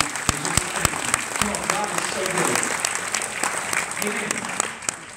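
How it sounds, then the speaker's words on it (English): Church congregation clapping during a praise break, with irregular sharp claps and a lively mix of voices shouting over the applause throughout. "go ahead and give Jesus a clap"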